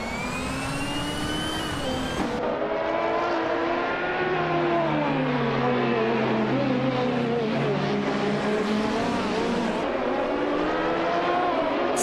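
Race car engines roar continuously in a racing video game, loud and close, with harmonic whines sweeping up and down through gear shifts as several cars run wheel to wheel.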